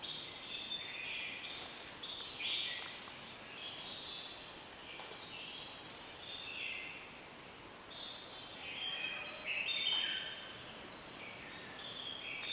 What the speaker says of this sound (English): You can listen to the bird sound even now through the sense of hearing.